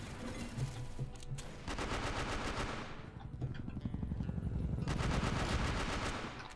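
AK-47-K Golden Bull assault rifle firing in the CF West online shooter, with sustained rapid automatic bursts that run almost continuously, loud and close, broken by one brief pause midway.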